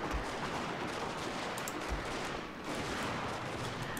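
Dense, continuous volleys of rifle fire from massed troops in a Fall of the Samurai battle, crackling steadily for several seconds at close to medium range, with no voices.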